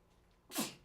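A single sharp sneeze bursts out close by after a quiet moment, a quick breathy explosion that fades within a fraction of a second.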